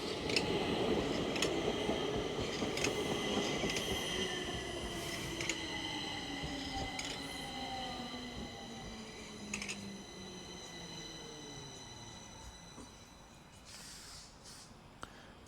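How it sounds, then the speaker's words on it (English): A southbound Stockholm metro train pulls into Abrahamsberg station with a descending whine and rolling rumble, slowing and fading gradually, with faint clicks and squeals. "So, a southbound train coming in for Hagsätra."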